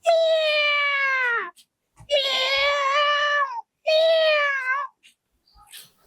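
A blind man imitates a cat's meow with his voice, giving three long, drawn-out wailing meows separated by short pauses, close and clear against a quiet background.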